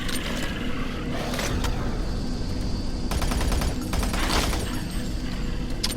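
Rapid automatic gunfire in the video game Doom 3, fought against spider enemies in Alpha Labs, with sharp bursts of shots rattling over a constant mechanical hum and brief pauses between volleys.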